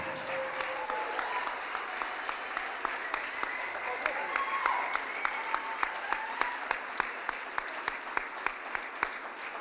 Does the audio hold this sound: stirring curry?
no